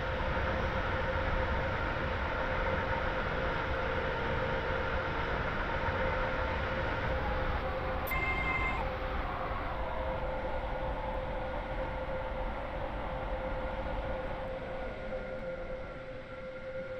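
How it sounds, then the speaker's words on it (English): A train in a Roblox game rolls into Llyn by the Sea station, a continuous steady engine and rail hum that holds level, with a brief high tone near the middle and a slight fade at the end. "We will shortly be arriving at Lynn by the Sea. Please mind the gap between the train and the platform."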